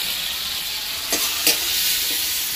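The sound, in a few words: shrimp frying in a pan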